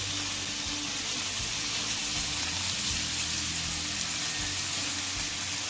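Maple balsamic beer pork chops sizzle in a hot pan, a steady close hiss of frying fat running unbroken throughout with low kitchen rumble beneath and no talk.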